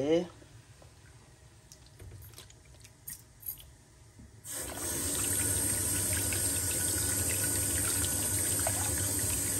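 Rice and grains are washed with water for a large batch of sweet pongal: soft clinks and splashes at first, then a steady, loud stream of running water pours on.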